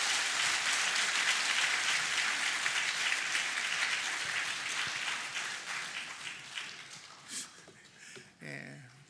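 A church congregation applauds during a Sunday worship service, a full wash of clapping that gradually thins and fades, with a voice emerging near the end.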